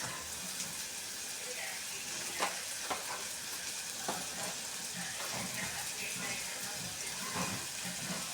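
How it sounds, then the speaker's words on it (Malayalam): Spice-coated fish, rubbed with chilli powder, turmeric, pepper and salt, fries in a pan as the oil gives a steady sizzle with occasional sharper crackles and spatters, close and continuous, and no one talks. "അതിൻ്റെ ഇടയിൽ നമുക്ക് മീൻ പൊരിച്ചെടുക്കാം."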